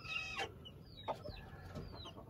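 A hen clucks in short bursts with a few higher chirps between them, close by against a low background hum.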